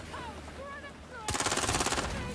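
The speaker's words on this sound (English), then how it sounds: "I just had to shoot what was above." Rapid automatic gunfire from the video game Watch Dogs Legion erupts loudly about halfway through, a fast burst of repeated shots following a quieter stretch of game ambience.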